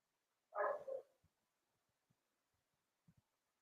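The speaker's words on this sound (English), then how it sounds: "Do you hear her in there barking?" A single muffled bark sounds from a dog inside, at a distance, then only a few faint soft taps in near silence.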